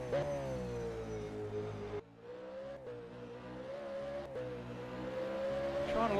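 A V8 race car braking heavily on the Townsville circuit. The engine note drops sharply, then climbs back as it revs through the gears, loud and close, with no voices.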